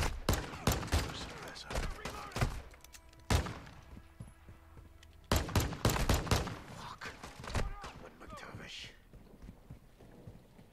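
Gunfire in Call of Duty Modern Warfare 2022: loud bursts of shots in clusters, with sharp cracks separated by quieter gaps and a short voice exchange in between.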